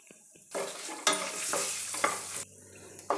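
Garlic, ginger, cloves and a piece of cinnamon dry-roast in a pan, with loud scraping stirs and a crackling sizzle building into a sustained stretch, then dropping back to a quieter simmer.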